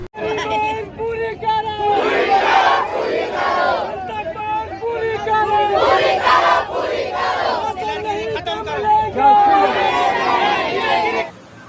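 A large, dense crowd at a village head's gathering shouts and chatters loudly and close up, with overlapping voices rising and falling in waves.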